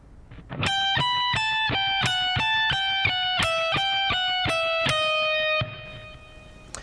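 Electric guitar speed solo phrase in a rock style, a steady string of bright picked notes stepping down in pitch, fairly quiet and clean-toned, ringing alone before the last note stops.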